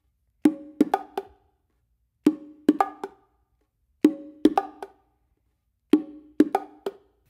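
Close bongo hits in four repeated groups: a sharp open tone followed quickly by short, damped strokes, with brief pauses between groups.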